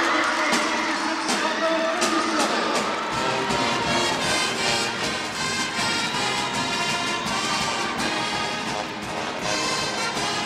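Basketball arena crowd at a championship game chanting in unison, a dense loud roar of many voices with rhythmic swells and cheering throughout.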